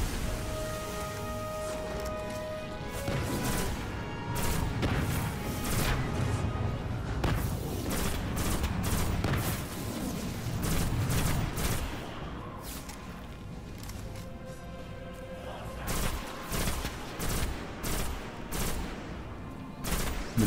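Rifle fire from the video game Destiny, with rapid bursts of gunshots and scattered impacts cracking out over a busy battle soundscape, continuous and close.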